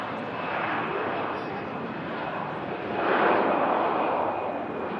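Aer Lingus Airbus A320 departing for Dublin, a steady jet roar with a thin high whine that swells louder near the end of the short stretch.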